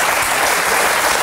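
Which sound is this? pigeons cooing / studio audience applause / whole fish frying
studio audience applause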